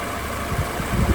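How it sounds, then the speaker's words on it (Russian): Car engine idling evenly after replacement of the drive belt tensioner and pulley, a steady close rumble with no knocking, heard briefly and alone. "Двигатель работает ровно."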